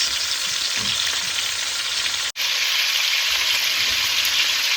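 Beef short ribs brown in a hot pan, a loud, steady sizzle of frying meat that runs almost continuously, broken by one abrupt moment of near silence before the hiss resumes.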